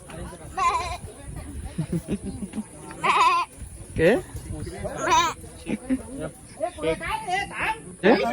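A person in a village imitates a goat, giving a series of wavering, nasal bleats in uneven bursts, heard close and loud, mixed with other voices talking and laughing.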